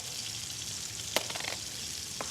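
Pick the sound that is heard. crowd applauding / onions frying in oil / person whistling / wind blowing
onions frying in oil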